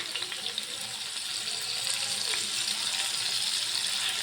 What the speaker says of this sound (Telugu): గోల్డెన్ కలర్ వచ్చే వరకు ఫ్రై చేసుకోవాలి.